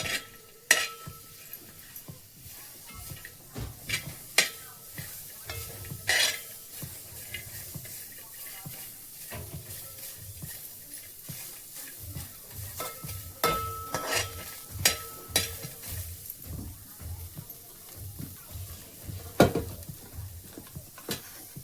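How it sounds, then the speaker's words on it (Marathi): Onion fries in a pan for a country-style mutton curry. A low steady sizzle runs under frequent metallic clinks and scrapes of a spatula against the pan, with bursts of stirring throughout. "आता भाजून घेते कांदा."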